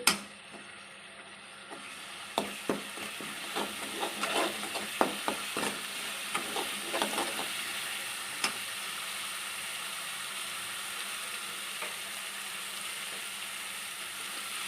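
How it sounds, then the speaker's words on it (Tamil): Green chillies, coriander and ginger paste sautéing in a pan for coriander rice, a steady sizzle with a burst of scraping stirs and clicks over the first eight seconds before settling into continuous frying. "வதக்கணும் வதக்கணும் நல்லா வதக்கணும் பச்சை வசம் போகிற வரையும் வதக்கிட்டு"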